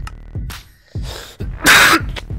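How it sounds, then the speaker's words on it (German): Harsh, explosive coughs burst out in a short fit during a German Minecraft gaming session, several loud rasping bursts spaced across a couple of seconds, the last one the loudest, close to the microphone. "Schon wieder diese Hustenanfälle hier."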